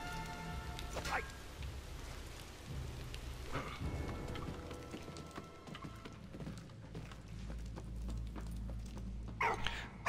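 Steady rain pours in the Valiant Hearts video game, with low rumbles of thunder rolling beneath it and occasional sharper crackles, a continuous, moderately loud storm ambience.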